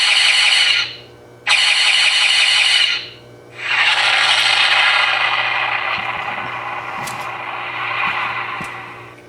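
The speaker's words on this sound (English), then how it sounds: "The sound you hear at the end is an explosion." A USS Defiant sound effect board plays two short hissing, roaring bursts, then a longer rushing blast that slowly fades, like an explosion with faint crackles at the end.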